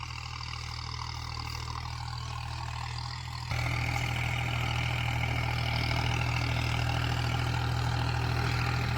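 A New Holland 5510 four-wheel-drive tractor fitted with a rotavator, its engine running as a steady low drone that jumps abruptly louder partway through and then holds even, with no talk.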